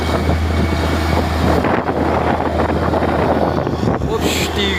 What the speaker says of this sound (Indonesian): kalau ada suara anginnya di video ini agak kuat gitu bosku